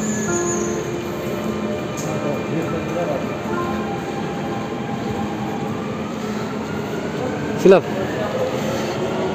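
A Dubai Metro train at a station gives a steady, low rumbling roar throughout, with people talking over it and a brief sharp clack near the end.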